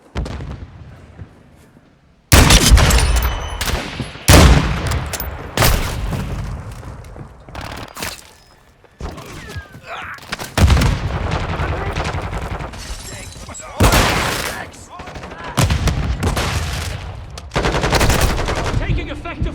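Gunfire in Call of Duty Modern Warfare 2 team deathmatch: loud, close bursts of automatic weapon fire and booming shots in clustered volleys, with brief lulls between.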